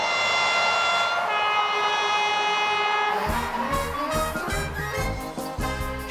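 A 1990s diesel railcar runs steadily on the Cambrian Line through Mid Wales, its engine droning with a rising tonal whine, then wheels click and rumble rhythmically over rail joints; close and continuous, no voices.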